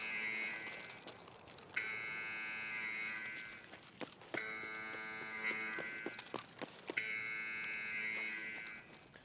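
A droning alarm blares in the video game Escape from Tarkov, a sustained buzzing tone repeating in long blasts of about two seconds with short gaps, heard at a distance under faint footsteps and clatter.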